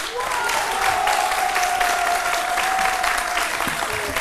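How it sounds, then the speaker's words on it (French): A studio audience on a French-language television midday show gives steady, dense applause that fills the whole stretch at an even level, with a faint sustained tone running underneath. "ceux qui vont t'applaudir, c'est avant tout l'association Euro qui nous accompagne"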